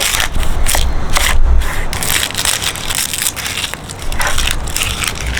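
A knife dices an onion on a cutting board, giving a steady run of close, loud crunching chops that repeat throughout with no talk.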